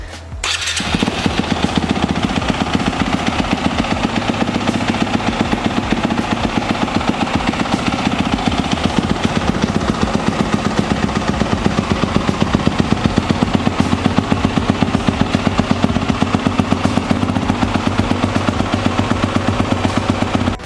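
A 2021 Yamaha YZ250F dirt bike engine starts at the push of a button, then settles into a steady, loud, close idle with a fast even pulse that runs unbroken to the end.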